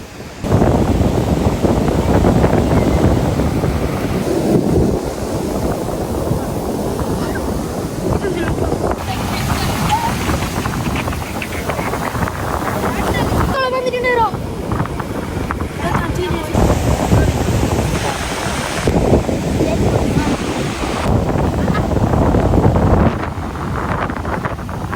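Wind buffets the microphone on a beach while sea waves wash in, making a loud, continuous roar with surges of surf rising and falling throughout.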